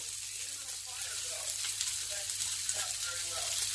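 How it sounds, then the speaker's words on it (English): A burger patty sizzling in a frying pan, a dense, continuous hiss of fat spitting close up, steady and fairly loud with no pauses. "we're going to let that sizzle for another 4 minutes or so"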